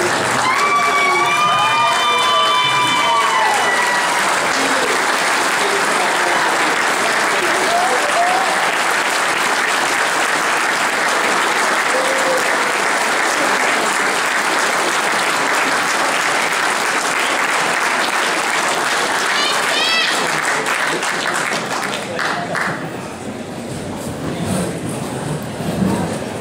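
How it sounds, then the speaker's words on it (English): A standing audience at a school hall of honor induction applauds loudly and continuously, with some cheering, then the clapping thins out near the end. "let's get on our feet. Let's give a round of applause"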